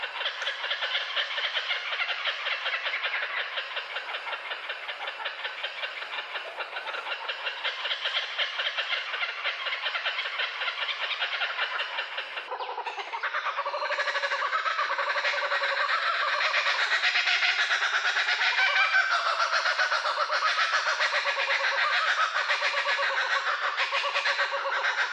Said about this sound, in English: We can safely play a bird sound.